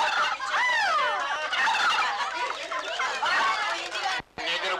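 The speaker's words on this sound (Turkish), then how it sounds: "Bu hindiler de nereden çıktı?" Turkeys gobble loudly and continuously in a busy, overlapping chorus, close by, with a brief drop near the end.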